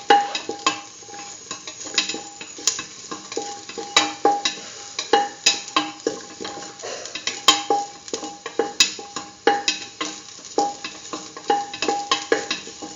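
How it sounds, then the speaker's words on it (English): A lentil and potato stew mix being sautéed in a pot, with repeated close scraping stirs of a utensil against the pot and a soft sizzle underneath. "Thoroughly saute mix."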